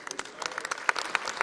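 Audience at a kavi sammelan poetry gathering in Jammu applauds, a steady patter of claps at moderate distance with a few sharper individual claps standing out over the brief stretch.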